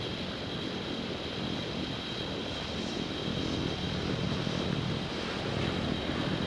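A propeller airplane engine drones loudly and steadily during takeoff from runway 26 at Albuquerque in the Infinite Flight game, a constant roar with no voices over it.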